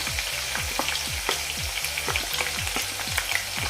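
Garlic and curry leaves fry in hot oil with a steady close sizzle, broken by sharp rhythmic scraping strokes of a spatula that repeat about every half second; no voices.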